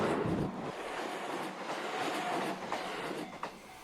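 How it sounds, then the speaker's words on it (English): A train rumbles past at a steady pace crossing a river bridge over the Nuno River, a broad rushing roar with faint rhythmic clatter of wheels, heard alone with no talking. "this is a train crossing the Nuno River"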